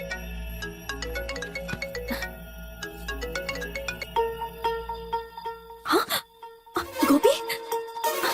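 A phone ringtone plays a repeating melodic tune for several seconds, then cuts off into brief rustling and a short burst of another tone.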